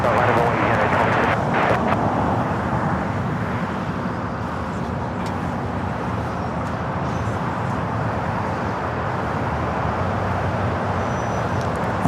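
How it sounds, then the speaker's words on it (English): A Boeing 747-8 freighter taking off at LAX, a loud, broad, sustained jet engine roar with wind buffeting the microphone, steady throughout. "Should be a 25 at left takeoff. It's a 747-8 freighter."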